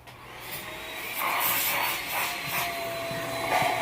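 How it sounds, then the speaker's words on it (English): A shop vacuum runs continuously while cleaning out the engine cylinders of a 1999 Chevy Tahoe 350, a loud steady hissing roar with shifting airflow as the nozzle moves, no voices. "We'll come back over here to our vacuum"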